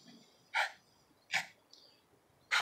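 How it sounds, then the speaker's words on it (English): A small dog barks in three short, sharp bursts spaced about a second apart indoors, fairly close but moderate in level, with quiet pauses between. "from barking at all the people walking by"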